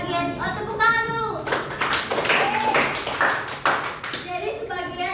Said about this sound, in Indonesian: Jadi sebagian tepuk tangan dulu.